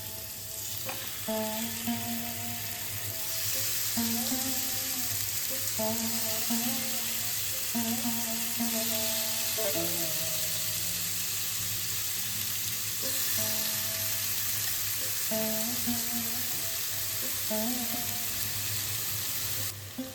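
Chicken tikka pieces sizzle steadily on a very hot grill pan over a high gas flame, a continuous loud frying hiss with faint tonal hums from the stove running underneath.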